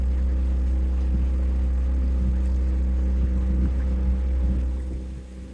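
Narrowboat diesel engine on the Norfolk Broads throttling steadily, a loud continuous low rumble with faint knocking that eases slightly near the end, with no talk.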